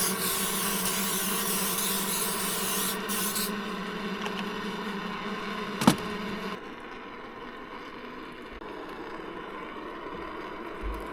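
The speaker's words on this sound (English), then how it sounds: "Spray a bit of cooking oil in her." Cooking oil sprayed from a can into a frying pan on a small portable camp stove, a steady close hiss lasting a few seconds before cutting off, followed by a sharp click and a quieter low hum.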